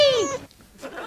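A cat gives one clear, close meow that falls in pitch, followed by a short quieter stretch and some faint sound.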